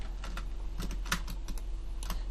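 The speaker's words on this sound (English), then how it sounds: "hope my keyboard sound doesn't enter the mic too much" Typing on a computer keyboard during 3D car modeling in Blender: a run of light, irregular key clicks, close to the microphone, over a steady low hum with no speech.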